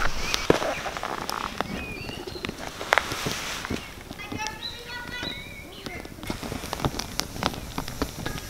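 A campfire burning outdoors at a conservation park campsite, crackling and popping with sharp snaps scattered over a steady hiss, close by, with birds calling faintly in the background.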